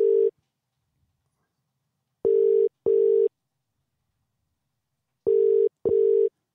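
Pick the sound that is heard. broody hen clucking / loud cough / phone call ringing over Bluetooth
phone call ringing over Bluetooth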